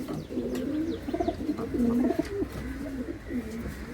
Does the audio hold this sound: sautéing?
no